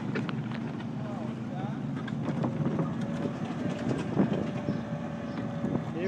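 Train ride with a beagle on board: a steady rumble and rattle of rail cars, with wind noise buffeting the microphone and faint squeals and clanks running through it.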